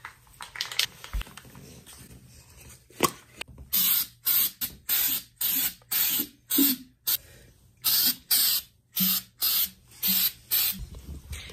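A spray paint can is shaken and sprayed for a thrift-flip makeover of a shoe cabinet: rattling shakes first, then about a dozen sharp, close hissing bursts in a steady rhythm, each roughly half a second long with brief gaps between.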